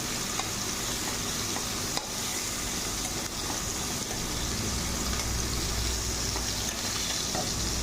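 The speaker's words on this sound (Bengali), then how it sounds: "এবার আলুটাকে আমি ভালো করে ভেজে নেবো।" Potatoes and onions frying in a pan for a wedding-style pointed gourd and potato dish, giving a steady, close, dense sizzle that runs throughout with a faint low rumble underneath and no talking.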